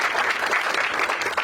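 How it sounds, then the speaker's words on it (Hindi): An audience at a stand-up comedy show claps steadily in a dense, even burst of applause, close and fairly loud with no talking. "एक बार ताली बजाओ इसके लिए"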